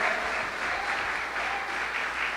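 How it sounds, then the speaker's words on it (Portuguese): Church congregation applauding during a Portuguese-language sermon, a steady, dense wash of clapping from many hands that stays loud and continuous throughout, with faint voices underneath. "Pode aplaudir o Senhor."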